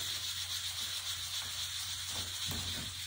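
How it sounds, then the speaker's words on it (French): Soft, steady dry scratching of a body brush stroked over the skin of the groin area, a close, quiet rasping hiss with faint rhythmic strokes and no talking. "Toute la partie des aines, je brosse."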